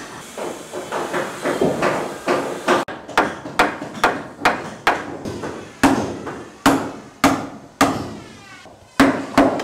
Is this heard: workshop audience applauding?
no